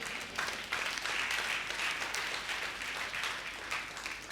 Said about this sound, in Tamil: கைத்தட்டுங்க பார்க்க